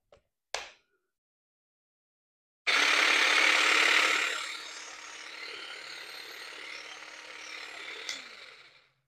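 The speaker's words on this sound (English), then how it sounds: "See how the hedge trimmer works." Cordless grass shear with its hedge trimmer blade fitted, 400 watts and 1200 RPM, starts after a sharp click and runs with a close buzzing whir that drops to a quieter steady hum before stopping.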